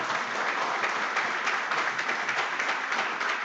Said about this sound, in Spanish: Fuerte aplauso al Señor.